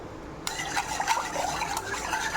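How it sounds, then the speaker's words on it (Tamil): Papaya Bombay halwa mixture stirred in a pan, with a steady, soft scraping and sloshing that goes on without a break, close and moderately quiet, with no talking. "இதை கை விடாமல் நம்ம கிளறிக்கிட்டே இருக்கணும்."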